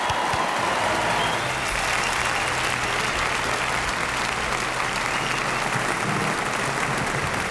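A theater audience applauds doo-wop singers just introduced on stage, a loud, dense, continuous wash of clapping with some crowd noise that holds steady throughout.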